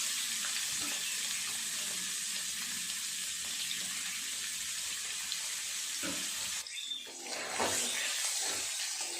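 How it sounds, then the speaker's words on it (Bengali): Paneer pieces fry in hot oil for a vegetarian dish, giving a steady close sizzle that shifts and thins near the end amid a few soft clinks from stirring. "বাকি পনিরগুলো ভেজে নেব।"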